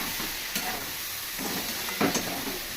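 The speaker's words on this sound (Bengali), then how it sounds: "এবার আমি মশলাটা ভালো করে একটু কষিয়ে নেব" A ginger, cumin and chili spice paste sautés in a pan for a prawn and pointed gourd curry, soft sizzling under several quick stirring scrapes from a spatula, close and short with no voices.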